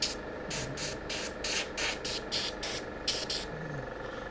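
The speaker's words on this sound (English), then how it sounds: "Nice thing about this compressor is that it's not so strong that it will damage your microphones." Short bursts of compressed air hiss from a small compressor nozzle while clearing out phone microphone ports, about a dozen rhythmic puffs close to the mic over a low electrical hum.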